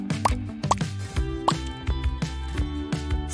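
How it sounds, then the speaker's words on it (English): Drops of food coloring falling into a bowl of lemon-lime soda, a series of distinct close liquid plops and drips in an uneven rhythm, clear and alone. "Fill up a bowl with lemon-lime soda. Then add some drops of food coloring."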